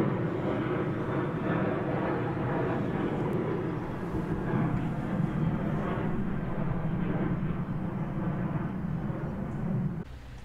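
Airplanes taking off nearby, a sustained low rumbling roar that swells and stays steady for about ten seconds before dropping off abruptly at the end.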